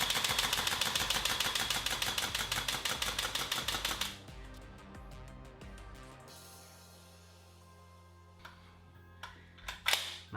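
A WE G3 gas blowback airsoft rifle firing BBs, a fast loud string of sharp rhythmic shots for about four seconds, then scattered mechanical clicks and clacks from handling.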